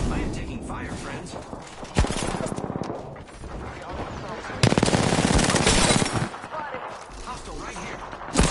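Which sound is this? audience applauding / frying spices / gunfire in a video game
gunfire in a video game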